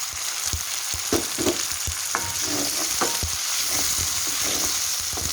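Chopped tomatoes frying in oil for an egg masala, a steady close sizzle with scattered stirring clicks and scrapes throughout.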